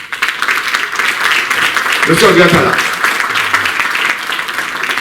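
A crowd at a graduates' ceremony in Basse-Terre applauds the mayor. Sustained, loud clapping fills the clip while a voice speaks over it through the middle.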